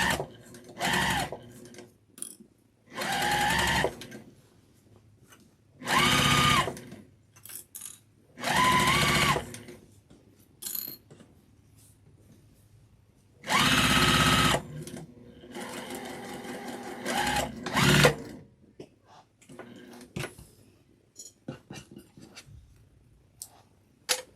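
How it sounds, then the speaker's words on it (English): Sewing machine stitching along the edge of an infinity scarf in a series of short, loud bursts separated by pauses, with back stitching at intervals and no talking. "We're going to want to back stitch, and you're just going to stitch right along that edge."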